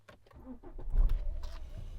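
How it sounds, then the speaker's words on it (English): A car engine is cranked and starts nearby, with clicks and shuffling first, then a low rumble catching and settling into a quiet idle, with no talk. "We'll start the engine."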